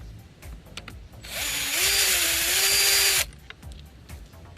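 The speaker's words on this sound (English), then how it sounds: "use my power tool to take the screws off" A power tool whirs for about two seconds, removing screws from a Sur-Ron electric bike, with a high steady whine and a slight pitch wobble, set amid quiet workshop clicks.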